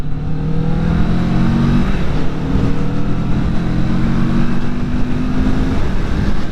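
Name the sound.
2020 Kawasaki Vulcan S motorcycle accelerating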